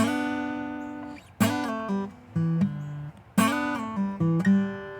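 An acoustic guitar plays a short lick, plucked notes ringing then sliding and bending in pitch, two similar phrases separated by brief decays.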